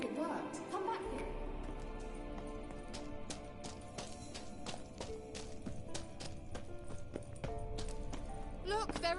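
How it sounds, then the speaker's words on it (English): Horse hooves clip-clop steadily in The Witcher 3, a game, the rhythmic footfalls running under dense in-game music and effects while a voice talks over them. "Another horse. Almost exactly like the last one."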